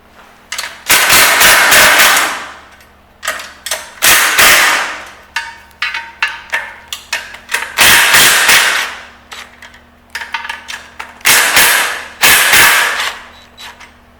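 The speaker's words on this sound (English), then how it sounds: "there's 4 bolts right here that he's going to unloosen, and you need a 13 millimeter Allen or 13 millimeter socket" A powered tool with a 13 mm socket loosens four bolts during a lifter mast install, making loud, close, rattling bursts that each last a second or two, with shorter clattering taps between them.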